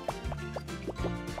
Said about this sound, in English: I'll fill the tub with hot water.